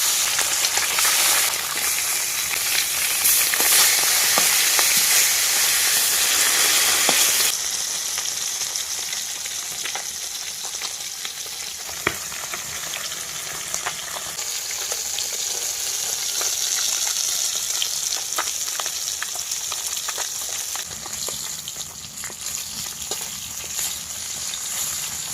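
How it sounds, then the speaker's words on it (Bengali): Pond fish frying in hot oil in a wok, a loud, dense sizzle that eases after the first few seconds and then hisses steadily on its own. "এবার মাছ ভেজে নেব"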